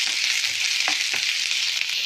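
Onions and garlic fry in refined oil with a steady, close hiss, broken by a couple of short scraping stirs, with no voices.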